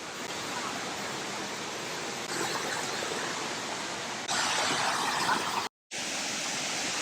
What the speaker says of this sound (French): L'eau est bleue, turquoise, cascade à étage.